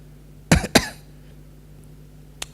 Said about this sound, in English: You have a cough.